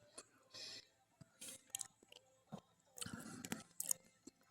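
Crunchy chewing of Ready Wise freeze-dried lasagna, close to the mic, in irregular bursts of crisp bites and softer mashing with brief pauses between them.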